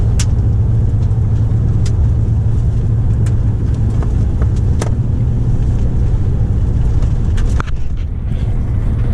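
A GMC truck cruising along a gravel highway in Alberta, with a loud steady low road rumble and engine drone throughout and occasional small ticks of stones and grit against the body.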